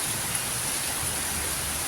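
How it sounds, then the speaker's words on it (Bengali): Steady rain falling in a hilly area after a sunny morning, an even hiss of drops filling the whole stretch at moderate level, with no voices. "কিন্তু এখানে তো জোর তার বৃষ্টি হচ্ছে।"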